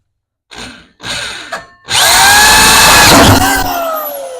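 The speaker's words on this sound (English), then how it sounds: "I was drilling a hole in a gas tank" Power drill boring a hole into a Ford Mustang's fuel tank: a few short bursts of the motor spinning up, then a long loud continuous drilling run that tapers slightly at the end, close and unaccompanied by talk.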